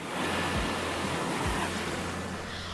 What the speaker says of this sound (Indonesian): Ombak datang silih berganti menyapu garis pantai.